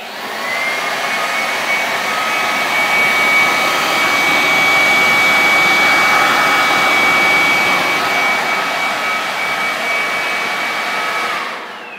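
A Dewalt 40 volt cordless leaf blower runs at full power with a loud, steady airy roar and a thin whine on top. The sound holds evenly for about eleven seconds, then cuts off.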